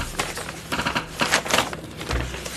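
Rapid bursts of keyboard typing, clattering keystrokes in quick clusters with brief pauses between, close and fairly loud.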